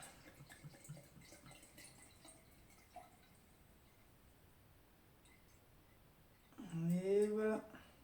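Rum poured into a jar of mango and passion fruit pieces, a short close gurgling pour rising near the end after quiet tapping and small clicks.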